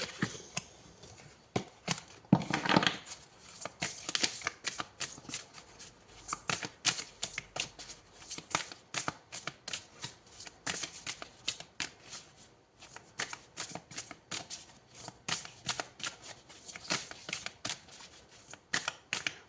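Tarot cards are shuffled again and again in quick bursts of crisp riffling and flicking, close and clear, with short pauses between rounds.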